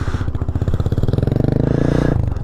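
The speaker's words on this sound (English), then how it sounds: "Little dude on a Raptor." A Raptor ATV ridden at sunset passes close by, its single-cylinder engine chugging with a fast, even pulsing beat that rises in pitch and then cuts away abruptly.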